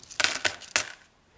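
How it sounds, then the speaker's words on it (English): A few coins drop into a rock tumbler barrel holding aquarium gravel, giving three quick metallic clinks and rattles close by before it falls silent. "We'll put our coins in."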